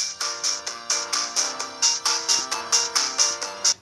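A phone ringtone plays alone, a bright electronic melody of evenly spaced chirping notes pulsing in a quick steady rhythm for a few seconds.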